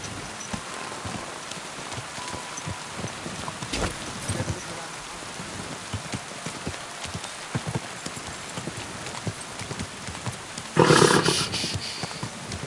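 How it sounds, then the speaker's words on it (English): Horse hooves clip-clop steadily on a wet surface amid steady rain, with a louder burst of movement near the end and a faint voice nearby. "Easy, good horse."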